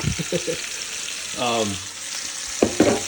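Heaps of chopped onions frying in butter and bacon fat in a Dutch oven for Dublin coddle, an even close sizzle with a few stirring knocks and brief voice sounds.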